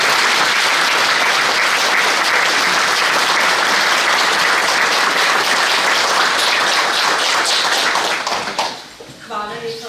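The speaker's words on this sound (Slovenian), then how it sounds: "Naj bo tudi tale aplavz še enkrat samo za vaju." A concert audience applauds a trumpet and piano duo at a men's choir concert. The clapping is loud, dense and sustained, then fades near the end as a voice begins talking.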